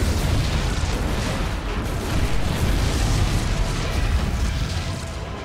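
Explosions in the StarCraft 2 video game rumble as a dense, continuous barrage of booms and bursts at steady loudness, fading slightly at the end with no speech.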